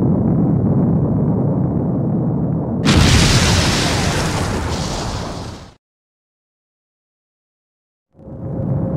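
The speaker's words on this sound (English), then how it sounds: "Mega Man, if we're not careful, we'll be caught in the explosion." Loud explosion in the Mega Man Legends video game, a sudden broadband blast that roars for about three seconds over a rumbling background before cutting to silence.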